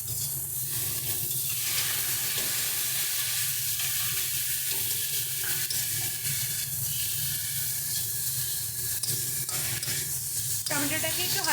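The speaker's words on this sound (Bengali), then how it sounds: "টমেটোটাকে একটু হালকা কিছুক্ষণ নরম হতে দিই, ভালো করে ভেজে নেব ততক্ষণ" Chopped tomatoes with salt frying in a hot pan, giving a steady close sizzle and hiss throughout with occasional soft stirring scrapes, no talk over it.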